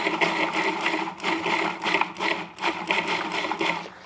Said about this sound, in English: now I'm adding the onions and carrots. And then very quickly, when on and off, I'm just gonna chop them.